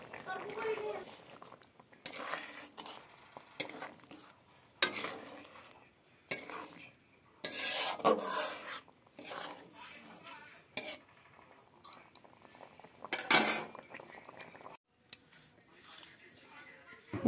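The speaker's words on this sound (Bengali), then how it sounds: "এখন একটা পাত্রতে ঢেলে নিলাম ডিমের চচ্চড়িটা" Egg curry is tipped into a bowl amid clattering utensils, with scattered clinks and scrapes of a spoon against metal and glass, while voices talk quietly in the background.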